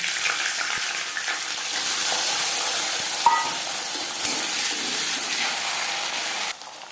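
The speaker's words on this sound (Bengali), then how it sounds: "সবার প্রথমে ভেজে নেব মটরশুঁটি" Peas frying in a pan for vegetable fried rice, a steady close sizzle with soft stirring scrapes and a couple of small clinks, no talking.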